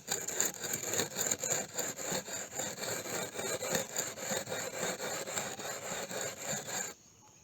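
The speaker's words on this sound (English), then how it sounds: "It's just taking away all the old rust and the discolored part of the axe, and then it eventually sharpens the blade." An old rusty axe blade being sharpened by hand, a close, steady rhythmic scraping of repeated strokes that stops abruptly near the end, with no talk.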